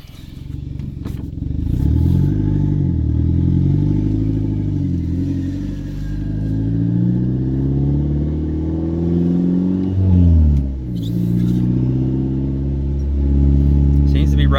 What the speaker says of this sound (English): apologize that it's so loud. My exhaust is still not hooked up yet, but we're going to give it a test run here